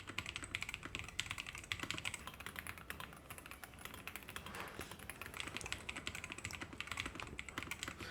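Quick typing on a Madlions 60HE keyboard with closed-bottom Hall effect switches: dense, continuous, fairly quiet clacking of keystrokes in a fast irregular rhythm, close up and alone without voices.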